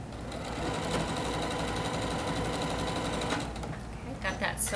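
Sewing machine stitching a quilt block with a scant quarter-inch seam, a steady rapid whir of needle strokes running continuously for several seconds before slowing near the end.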